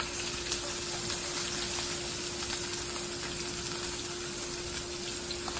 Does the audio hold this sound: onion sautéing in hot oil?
yes